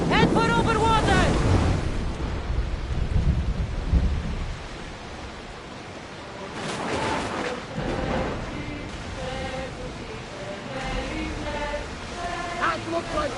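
A thunderstorm rages at sea in the game Assassin's Creed Odyssey, with rumbling thunder, roaring wind and crashing waves in a dense wash of noise, and voices talking over it.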